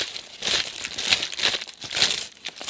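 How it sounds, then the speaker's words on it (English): Parchment paper crumpled by hand while making a date custard pie, a close, busy crinkling that swells and fades in several bursts with no talking. "I take a piece of parchment paper, but instead of just pushing it in like that, I crumple it up and then unfold it"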